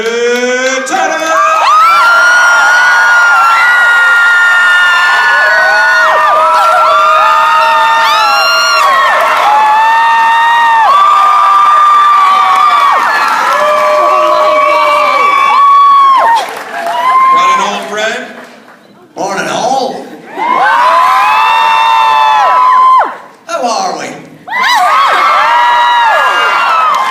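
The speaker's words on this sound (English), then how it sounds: "It's a good crowd. It's an excited crowd today." A loud, excited convention crowd at Wizard World Raleigh 2015 cheers, whoops and screams for David Tennant, sustained roaring with brief dips and renewed bursts.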